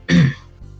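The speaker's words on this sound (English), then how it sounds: "Arizal does clear his throat." A single short, close throat clearing, a man's guttural rasp followed by a faint low hum.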